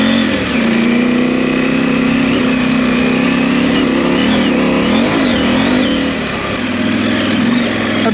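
Adventure motorcycle engine revving steadily on an off-road trail under street throttle mode with traction control set high, a loud continuous drone that rises and falls with throttle changes, close to the rider, with no speech.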